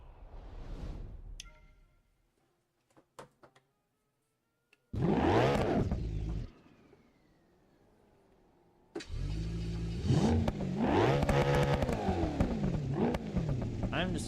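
Loud car engine in a driving video game played on a wheel setup, idling then revving hard in long rising and falling sweeps, with a short burst earlier and quiet gaps between.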